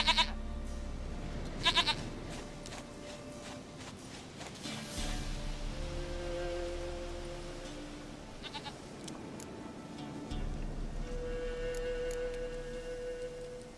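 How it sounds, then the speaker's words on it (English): Goat bleating in The Witcher 3, a few short bleats with farm-animal noise and hoof clops over game music and ambience. "Goat of mine, dearest, sweetest goat."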